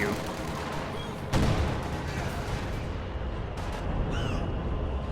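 An ML-20 howitzer barrage in a real-time strategy game pounds the area with a steady rumble of shell impacts, one sharp blast near the start and scattered booms after it, under game noise and talk.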